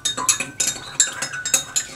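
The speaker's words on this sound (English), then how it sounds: "you just stir it" Detergent being stirred into warm water for slime, a quick run of light clinking taps of a utensil against a container, close and evenly paced, about eight strikes in two seconds.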